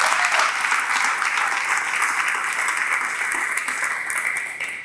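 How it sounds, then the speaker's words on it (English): Steady, dense applause from a large audience at a community gathering fills the hall, loud and sustained throughout without pause. "if we could have a round of applause for all of these people"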